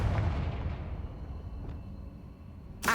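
A Confringo fire spell explodes in the video game Hogwarts Legacy, a fairly faint, booming blast whose rumble fades out, followed by a sharp new burst at the very end.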